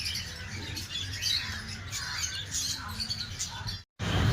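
A small bird calls outdoors with short squawks and chirps over steady background noise. A brief dropout comes near the end.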